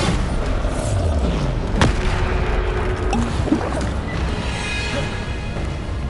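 A Bombarda spell blast from Hogwarts Legacy lands as a single sharp boom midway, set within a steady layer of game ambience and faint effects, with no speech.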